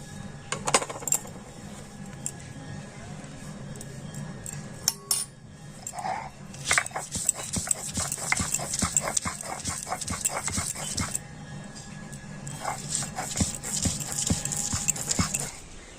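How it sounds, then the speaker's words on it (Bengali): Green chilies and ginger are ground on a shil-nora grinding stone: close, rhythmic clacking and scraping of stone on stone in repeated bursts, with short pauses between strokes. "আমি সব কিছু তো শিলনোড়াতে বেটে নিচ্ছি"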